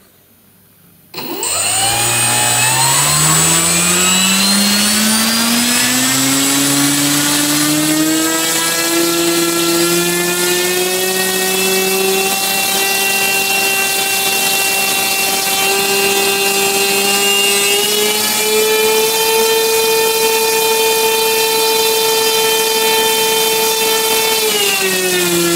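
AXI 2814/12 Long V2 brushless motor spinning a test propeller: a sudden start into a loud, steady high whine that climbs gradually in pitch as it spins up, then holds close and continuous, no talk.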